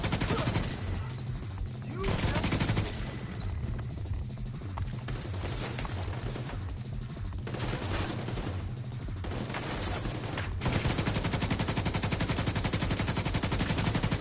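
A light machine gun in The Division 2 fires long, sustained automatic bursts with a steady, loud rattle across the whole stretch. The fire pauses briefly in places and comes back harder near the end, with a voice faintly underneath.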